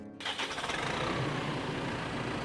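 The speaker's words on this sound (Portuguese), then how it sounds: "Foi com o ronco do trator." A tractor's diesel engine turns over and settles into a loud, throaty rumble that chugs steadily for a couple of seconds.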